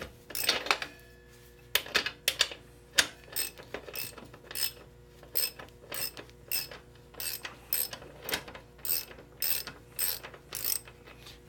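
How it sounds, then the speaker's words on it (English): A wrench ratchets steadily on the rear axle nut of a Yamaha XT225 motorcycle, sounding as repeated close clicking bursts in an even rhythm, with sharper metallic clanks mixed in and no talking. "We're going to take off the wheel, so we're going to take the axle off."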